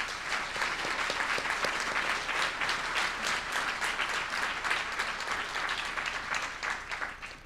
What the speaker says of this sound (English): And let's give them a round of applause too.